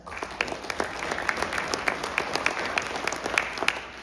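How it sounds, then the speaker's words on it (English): Audience applause at a high school FFA leadership night meeting, a steady patter of many hands clapping in a room with sharper individual claps standing out, continuing throughout with no talk over it. "Let's give one more big round of applause to those jacket sponsors"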